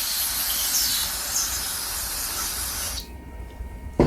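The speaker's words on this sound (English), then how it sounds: "You can use a good carb spray like this NAPA carburetor and choke cleaner." NAPA carburetor and choke cleaner sprays from an aerosol can into the fuel passages of a 2002 Craftsman Tecumseh 4.25 HP engine, a close, steady, loud hiss for about three seconds that cuts off abruptly, followed by a faint clatter.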